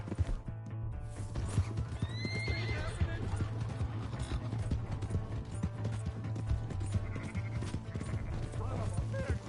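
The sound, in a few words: horse neighing and galloping in video game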